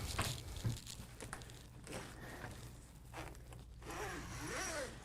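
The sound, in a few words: suitcase zipper being zipped around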